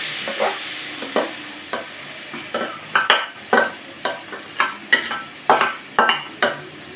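A spoon stirs tomato paste, made from three juiced tomatoes, into shorba in a pot, giving repeated rhythmic scraping strokes over a steady background sizzle, close and moderately loud.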